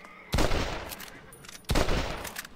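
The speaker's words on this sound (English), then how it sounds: "gotta love those gun sounds" Two loud rifle gunshots fire in Red Dead Redemption 2, each a sharp crack followed by a rolling echoing tail, about a second and a half apart.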